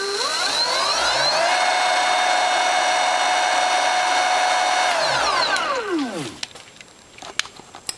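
A Transmagnetics 3kW electric motor at 76 volts whines up to speed, holds a loud steady high-pitched tone, then spins down with a falling whine, followed by a few faint clicks.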